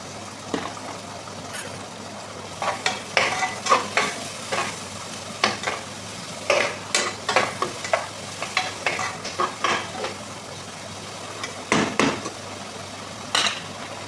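Ingredients frying in butter in a pan for spaghetti, with steady sizzling under repeated scraping and stirring strokes of a utensil against the pan, close and fairly loud.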